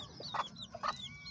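A bantam hen gives two short soft clucks close by while tending her chick on a cold night, with a faint background hum between the calls.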